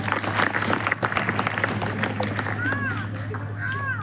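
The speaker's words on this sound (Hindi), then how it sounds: "इसके लिए ताली बजाओ" Applause from an audience clapping for a child who answered a question at an Arya Samaj gathering, a dense patter of many hands mixed with crowd noise and a steady low hum, with a voice briefly audible over it.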